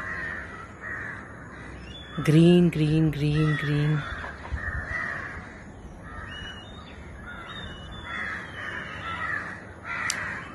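Birds in a garden behind a house surrounded by trees and plants: a loud burst of harsh crow caws close by, set against fainter chirping and a voice talking throughout.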